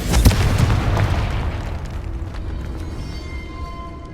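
A blasting-spell explosion in Hogwarts Legacy hits with one loud, close boom at the start, followed by a rumbling, crackling decay that fades over the next few seconds, with no speech.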